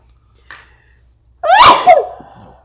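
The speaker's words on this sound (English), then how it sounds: "I'm gonna sneeze" A single loud, close human sneeze with a sharp explosive burst and a brief trailing breath, preceded by a faint intake of air.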